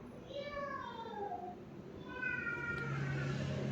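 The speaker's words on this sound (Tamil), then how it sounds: "பூனை பார்த்திங்கன்னா அந்த மட்டன் குழம்பு வாசனைக்கு உள்ளே வந்து உட்காந்துருக்கு" A cat in a village house meows several times in drawn-out, wavering cries that fall and rise in pitch, close and clear over a low background murmur.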